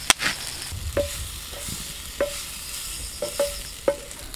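Curry leaves fry in hot oil beside Egg 65 while a spatula stirs, giving a low sizzle with several sharp scraping taps spaced through the stretch.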